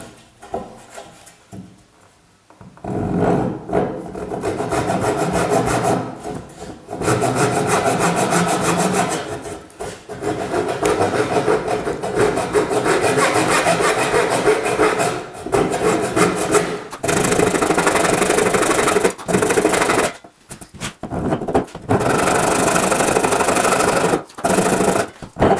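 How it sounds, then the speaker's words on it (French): Steady back-and-forth rasp of a hand saw cutting through oak, continuous strokes close up with a few brief pauses. "Et maintenant, j'y vais à la scie."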